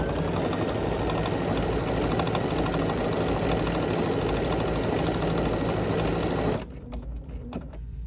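A Bernina sewing machine stitches a decorative tulip pattern with a fast, steady, close mechanical whirr and rapid needle chatter that stops abruptly near the end, leaving faint clicks.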